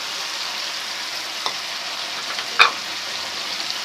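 Tomato paste sizzling in a pan of chicken karahi gosht with an even, fairly loud frying hiss, a few faint stirring knocks and one sharp utensil clink near the end.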